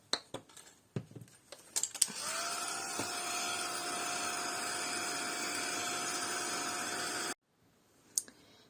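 A handheld heat tool drying paint on a wooden log switches on after a few clicks and runs as a steady close whirring hiss for about five seconds, then cuts off, followed by a faint click.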